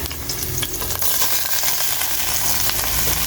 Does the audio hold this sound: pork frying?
yes